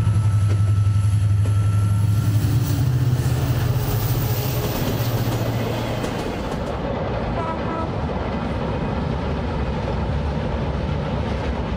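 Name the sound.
special agricultural goods train running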